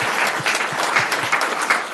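Applause at a city council meeting, a short burst of steady, moderately loud clapping from a roomful of people.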